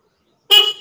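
A newly installed car horn gives one short, loud, close honk that starts sharply after a moment of silence and fades quickly.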